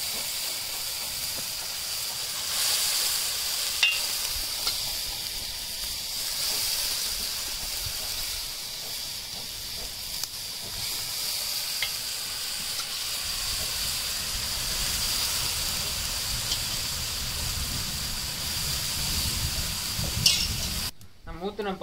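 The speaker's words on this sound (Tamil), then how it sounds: "நம்ம ஊற்றின பால் வந்து பார்த்திங்கன்னா இப்போ கொதிக்கிறதுக்கு ஆரம்பிச்சிருச்சு" Steady hissing and sizzling bubbling from coconut milk boiling in a kadai on the heat while making virgin coconut oil, continuous and close, with a faint whine throughout and a brief clunk at the end.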